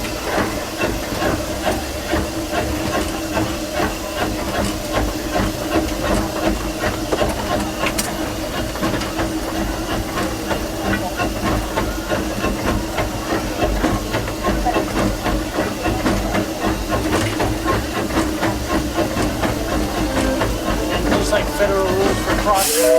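Steam locomotive built to run like an 1800s engine, hissing steam in a steady loud wash heard from up in the cab, with engine rumble and rail clatter underneath throughout.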